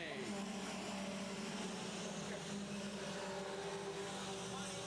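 Stock cars racing at Saugus Speedway, their engines a continuous droning roar that stays fairly distant and steady throughout, with a commentator's voice faintly present.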